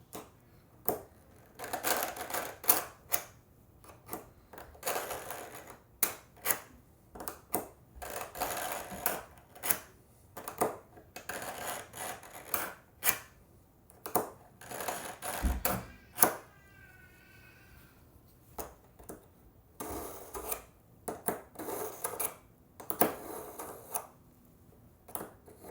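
A knife drawn repeatedly through a survival knife sharpener makes a series of short, sharp scraping strokes in an irregular rhythm, fairly quiet and close, with brief pauses between passes.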